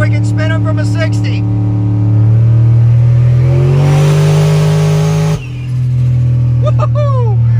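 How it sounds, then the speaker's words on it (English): A budget-build car's engine revs hard and holds near the limit, then abruptly cuts out as it hits boost cut, loud and close with tire squeal and people shouting over it. "We hit boost cut right there"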